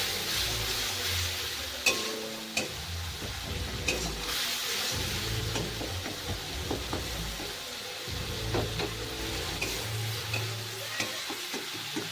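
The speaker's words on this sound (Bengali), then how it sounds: "এবার আমি ভালো করে কষিয়ে নেবো" Masala and meat masala sautéing in a pan with a little water, a continuous sizzle broken by scraping stirs and occasional light clinks of a spoon, no talking.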